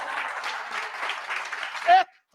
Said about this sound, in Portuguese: Deu um aplauso ao Senhor.